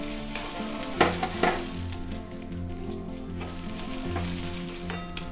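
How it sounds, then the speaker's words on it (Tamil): Grated coconut dry-roasting in a hot pan, a soft steady crackle and patter with occasional scraping stirs, moderately quiet and close, with faint background music. "அந்த சூட்கே நல்லா வறுபட்டுரும் தேங்காய்"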